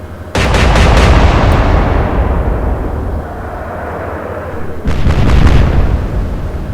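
Warship guns fire in the naval battle game Atlantic Fleet: a loud cannon volley booms with rapid cracks, rolls off into a long fading rumble, then a second volley bursts out, with no talking.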